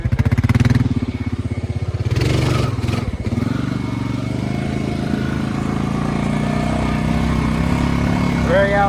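Dirt motorcycle riding through thick mud left by Hurricane Ian, engine roaring loud and steady as the rear wheel spins and churns, with a voice speaking briefly over the engine noise.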